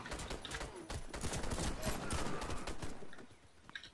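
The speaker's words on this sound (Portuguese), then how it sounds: "estão atirando atrás aqui na gente" Rapid bursts of automatic gunfire from enemies crackle in a co-op round of the shooter video game Warface, dense overlapping shots that thin out toward the end.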